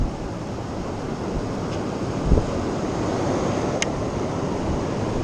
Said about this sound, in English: We're getting gusts of 60 miles an hour.